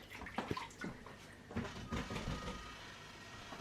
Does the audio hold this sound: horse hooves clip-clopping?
no